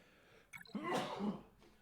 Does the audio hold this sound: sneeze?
yes